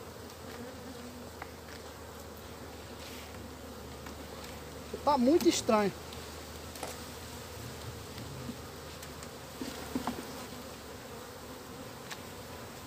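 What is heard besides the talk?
honey bees buzzing on hive frames during inspection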